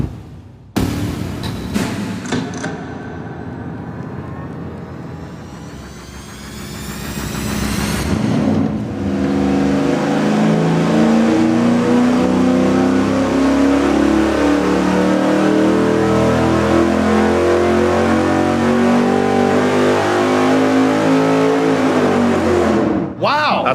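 V8 engine fitted with a Windsor intake manifold running on a dyno, cranking then revving up in a rising sweep and holding a loud, sustained roar before cutting off abruptly.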